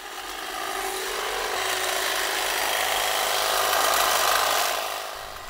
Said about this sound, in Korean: 한쪽에선 전기톱이 부지런히 돌아간다.